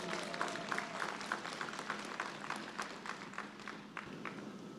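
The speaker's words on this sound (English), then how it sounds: "let's please give all of our recipients another warm round of applause" Applause from a convocation audience at a university Founder's Day ceremony fills the hall as a steady, dense wash of clapping, moderately loud and continuous without voices.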